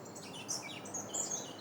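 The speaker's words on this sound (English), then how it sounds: "There's buff-throated saltators calling up here." Buff-throated saltators and other birds, a clay-colored thrush among them, call from a tree in a coffee-growing area, giving several high, thin chirps at a moderate distance over steady outdoor ambience.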